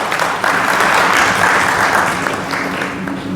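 An audience at a sales-closing seminar gives loud, dense applause that swells and then slowly thins out over a few seconds, with no speech on top.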